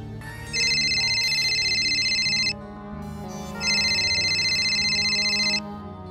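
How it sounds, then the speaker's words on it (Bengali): A phone rings with an incoming call in two long electronic ringtone bursts separated by a short pause, loud and close over a low musical background. "তখনই তার ফোনে ফোন আসে অগ্নিভর।"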